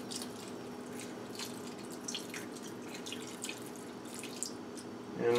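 Water is poured into a hot pan of gyoza, a steady, close hiss and trickle of liquid with brief louder splashes, ending in a sharper burst.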